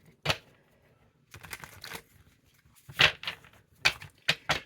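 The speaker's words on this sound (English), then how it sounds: "These cards, sometimes you guys are just too many to shuffle." A large deck of cards being shuffled close by in short, papery bursts, a single riffle followed by several quick clustered flurries separated by brief quiet gaps.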